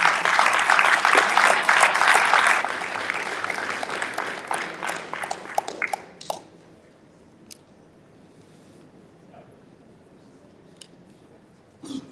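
A school board meeting audience in Asbury Park applauds students and administrators, dense clapping that thins over several seconds into scattered single claps in a quiet room.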